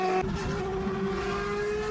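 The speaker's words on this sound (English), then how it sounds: "That's a V10, dude. That's the real engine." A Formula One car's V10 engine screams at high revs, a bright sustained whine with a stepped pitch change near the start, steady and loud with no talking.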